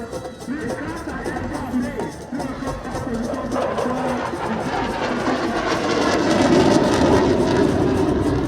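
A military aircraft's engine drones at an Independence Day display, a broad steady roar that swells slightly louder over time, mixed with crowd noise and voices throughout.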